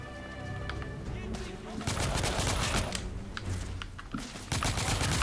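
Gunfire from the video game The Order: 1886, dense bursts of shots and crackling impacts throughout, loud and continuous with sharper volleys in the latter half, mixed with game noise.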